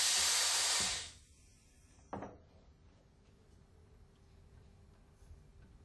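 Compressed air bursts loudly from an Alfa Laval SRC separator in a strong hiss lasting about a second, then cuts off sharply, followed by a single metallic clunk and a quiet background hum.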